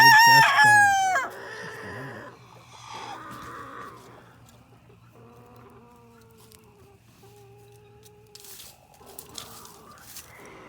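Backyard chickens raise an alarm as a hawk may be overhead: a rooster crows near at first, then repeated short clucking calls come fairly close but quiet over a low steady hum.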